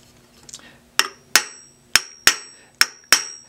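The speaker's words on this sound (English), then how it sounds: "I'm going to use the convex side of the planishing hammer" Six sharp metallic strikes of a planishing hammer's convex face on a copper vessel, close and loud, each ringing briefly before the next, spaced at a slow, uneven pace.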